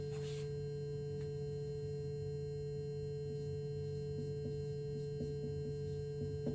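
Function generator producing a steady tone of about 140 hertz, continuous and unchanging with a faint hum, alone and fairly quiet.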